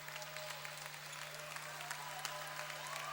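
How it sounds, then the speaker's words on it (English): A crowd at a 2012 LBAA consolation championship basketball game between Immanuel Lutheran and Faith Lutheran cheers and chants, heard as a steady, distant roar of voices and clapping under a low hum. "You can see the crowds definitely chanting for both teams"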